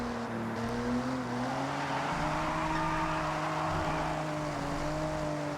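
A car drifting in the video game Forza Horizon, played on a steering wheel, with a steady engine drone whose pitch wavers as revs rise and dip, running continuously and fairly loud with no talking.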